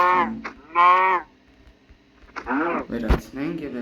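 Cows in a zoo video game give several loud, drawn-out moos, two near the start and more toward the end, separated by a quiet stretch.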